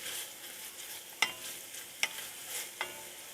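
Onions browning in a pan for a squash mock oyster stew, a soft, quiet sizzle beneath three distinct utensil clicks against the pan at a slow, uneven pace.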